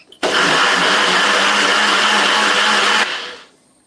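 A NutriBullet blender whirs loudly through warm vegan soup, starting abruptly, holding a strong steady motor roar for about three seconds, then winding down to silence.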